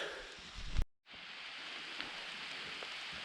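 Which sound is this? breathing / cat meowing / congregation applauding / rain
rain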